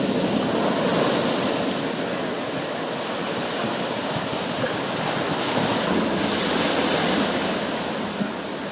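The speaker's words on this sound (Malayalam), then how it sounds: "എറണാകുളം ജില്ലയുടെ കണ്ണമാലി തീരത്ത് അതിരൂക്ഷമായ കടലാക്രമണമാണ് ഉണ്ടായത്" Rough sea surges crash against the Kannamali coast in Ernakulam, a loud, unbroken roar of breaking surf and rushing water with no voices.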